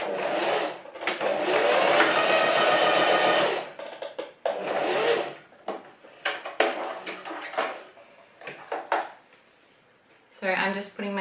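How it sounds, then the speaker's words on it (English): A sewing machine runs in bursts of straight stitching along the short seams of an oversized fabric scrunchie, with a long whirring run followed by shorter stitches, pauses and handling noises, and a voice speaking near the end. "we are going to sew the shorter seams together first. and we're just doing straight stitch."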